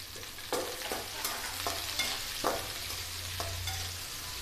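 Cut country okra tipped into a hot pan for ladies finger sambar, then stirred, with a steady close sizzle of frying and several sharp scraping stir strokes spaced through it.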